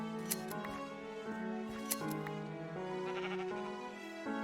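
Sheep in Minecraft bleating close by over steady background music, with a couple of short clicks.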